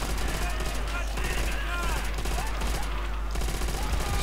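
Dense, rapid bursts of MG-42 machine-gun fire in Call of Duty: World at War rattle almost without pause, with scattered battle noise and faint voices mixed underneath.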